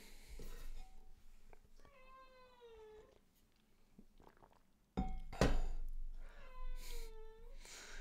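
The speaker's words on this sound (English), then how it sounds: "poor little cat, poor cat, so abandoned" A cat meows repeatedly, drawn-out, pitiful cries with a quieter stretch in between and a sharp thump partway through, heard close and loud in an indoor setting.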